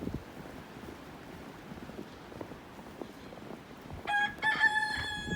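A rooster crows once near the end, clear and moderately close, over a cold, windy outdoor hush on a farm with goats nearby.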